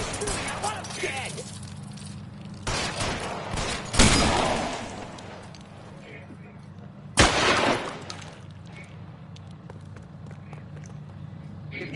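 A shootout: a few sharp, loud bursts of gunfire, the strongest near the middle and again a few seconds later, with a rustling, scuffling background of movement and voices in between.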